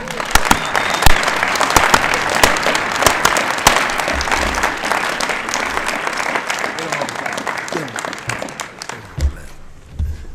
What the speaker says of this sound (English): please give a Haven clap to Coach Michelin